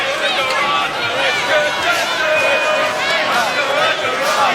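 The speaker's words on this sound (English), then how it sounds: "Receiving the support from this crowd here in Manchester." Wrestling arena crowd in Manchester roaring steadily as a continuous loud wash of cheers and shouts, with a commentator talking over it.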